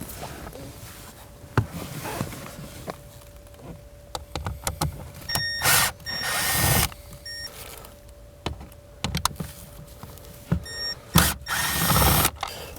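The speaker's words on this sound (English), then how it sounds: "we have 3 T25 Torx head screws that we need to remove" Power tool driving out T25 Torx screws from the blower motor of a 2015-2024 Ford Edge, heard as several short whirring bursts of a few seconds each between quieter handling noises.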